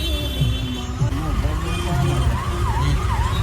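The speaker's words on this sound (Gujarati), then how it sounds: "એમ્બ્યુલન્સ જાય છે ને સાઈડ આપી દો ભાઈ, આને સાઈડ આપી દો" An ambulance siren wails in city traffic near Koba Circle in Gandhinagar, its rising and falling tone fairly close amid steady engine rumble and road noise, with someone talking over it.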